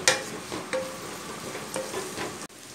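Ingredients for a Kerala-style chicken curry sauté in a pan, a soft steady sizzle broken by several light scrapes and clinks of stirring, close by and fairly quiet.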